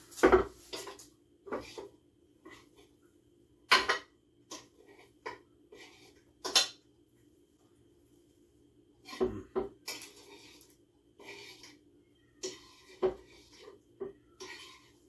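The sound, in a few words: pulled pork being put into the slow cooker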